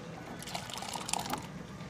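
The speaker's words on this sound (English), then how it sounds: "Grab me a little juice here." Juice trickles from an Omcan triple-head refrigerated electric juice dispenser into a cup, a soft, steady pour with faint drips and splashes, close by.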